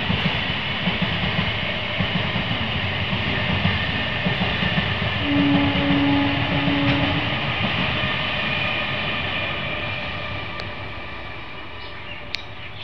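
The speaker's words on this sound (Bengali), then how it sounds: "আবারও একটা ট্রেন যাচ্ছে, এইবার শিয়ালদা যাচ্ছে বনগা থেকে।" A passenger train running from Bangaon to Sealdah rolls past with a steady, loud rumble and clatter that holds for the whole stretch, a brief tonal hoot rising midway and the noise easing slightly toward the end.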